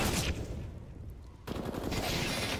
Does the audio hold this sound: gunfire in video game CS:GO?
yes